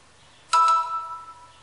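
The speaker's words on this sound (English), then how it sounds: "That's my phone." A phone chimes once with a bright two-tone notification for a new email, loud and close, then rings out and fades over about a second in a quiet room.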